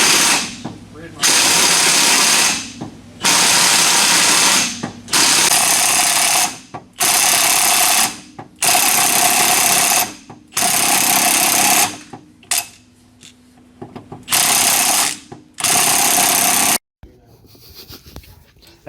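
Hydraulic press crushing the sleeve on a 4 Eye Fox, a series of loud, close mechanical bursts about a second or two each, separated by short pauses, ending in quieter clicking and handling noise.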